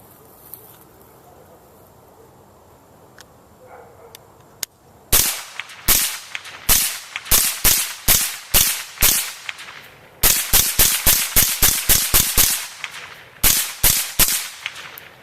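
AR74 rifle, an AR-15 variant chambered in 5.45x39, emptying a 20-round magazine outdoors. Sharp, loud shots come in quick succession, in two rapid strings with a short pause between them.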